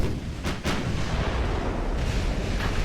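Naval cruiser gunfire in the Ultimate Admiral: Dreadnoughts game, distant heavy booms with a couple of sharp reports early on, all set over a dense, continuous rumbling roar of battle.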